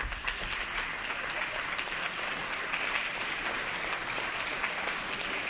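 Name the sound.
legislators applauding the Mendota chess team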